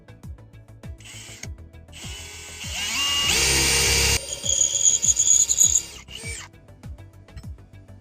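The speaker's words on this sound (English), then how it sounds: "so I know where to drill." A power drill whirs for about two seconds, then several short bursts of drilling during a car light installation, with ticking mechanical clicks before and after.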